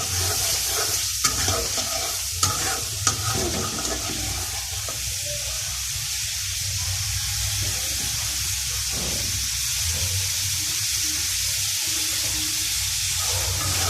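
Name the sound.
sautéing spice masala with potatoes in a pan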